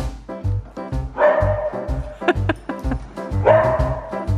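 A dog yips and barks repeatedly while racing, loud and close, in quick excited bursts with whimpering tones between them.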